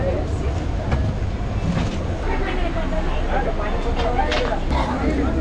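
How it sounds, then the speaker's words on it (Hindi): A train stands at a station platform before departing for Tata, giving a loud, steady low rumble with a busy station din over it, with no pauses. "सो गाइस, ये है मेरी ट्रेन जो यहाँ से जाएगी टाटा"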